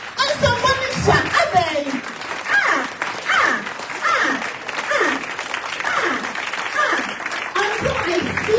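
Applause and cheering from an audience at a community gathering in Columbus, Ohio, loud and continuous, with voices shouting and talking over the clapping throughout.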